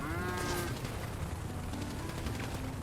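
Repeated cow moos from a modded GTA 5 game, drawn-out lowing calls sounding over a constant noisy game background with no talk.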